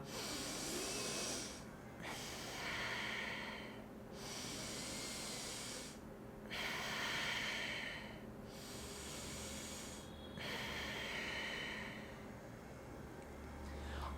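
Steady, hissing breaths drawn through one nostril during a yoga breathing exercise, repeated in long strokes about every two seconds with short gaps between, close and fairly loud, with no talk.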